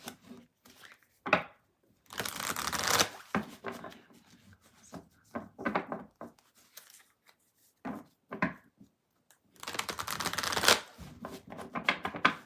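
Tarot cards being shuffled in bursts: riffling flurries and soft slaps with pauses between, two long riffles standing out, close and clear with no talking.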